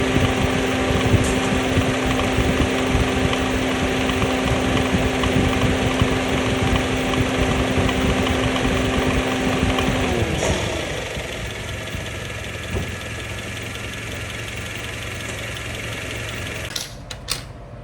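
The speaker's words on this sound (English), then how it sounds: "my AC compressor makes this weird sound when you shut it off" A 2010 Honda Civic's AC compressor and engine idle steadily, holding a tonal whine, then shut off around the tenth second, leaving a quieter engine idle with faint knocks and a brief clatter near the end.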